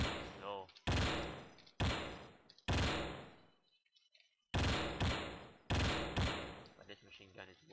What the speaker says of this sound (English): this machine gun is one deadly weapon